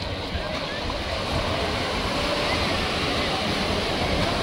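Big waves rolling in and breaking on the shore at Ganga Sagar, a continuous dense wash of surf with wind buffeting the microphone, loud and unbroken.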